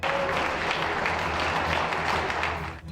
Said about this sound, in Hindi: ऐसे में पूरा इलाका तालियों की गड़गड़ाहट से गूंज उठा।